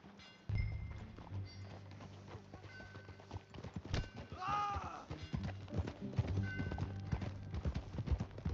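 Horse hooves clip-clopping in Red Dead Redemption 2, a steady riding rhythm up close with a whinny near the middle and a voice calling out briefly over the galloping.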